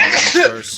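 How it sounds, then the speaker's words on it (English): A single quick sneeze bursts out close to the microphone during a livestream, with a voice speaking briefly around it. "Okay, that was a sneeze."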